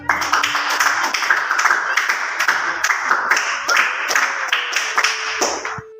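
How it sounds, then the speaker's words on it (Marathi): Students in a school lesson clap their hands together in a steady burst of applause, many sharp overlapping claps close by that continue for several seconds before stopping. "या दोघींचं पुन्हा एकदा टाळ्या वाजून अभिनंदन करा"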